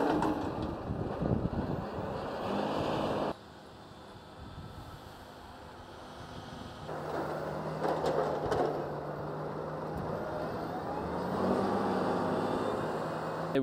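A John Deere tractor compacts a maize silage pit with its press wheel dropped at the back: a steady engine drone runs throughout, mixed with wind buffeting, dipping briefly quieter before rising again in the outdoor setting.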